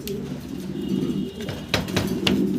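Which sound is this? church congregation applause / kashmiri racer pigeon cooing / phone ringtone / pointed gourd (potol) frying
kashmiri racer pigeon cooing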